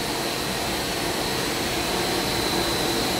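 A film blowing extrusion machine runs with a steady, loud, broadband mechanical drone and airy rush that stays constant throughout, with no pauses or voices.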